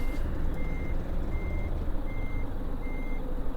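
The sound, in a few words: truck reversing beeps while parking, American Truck Simulator video game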